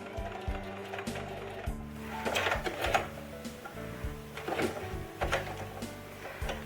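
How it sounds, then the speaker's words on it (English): Sewing machine stitching rickrack onto a baby onesie, with a close continuous mechanical whir and shifting motor hum, punctuated by rhythmic needle clatter across the whole stretch. "So I'm just gonna start sewing"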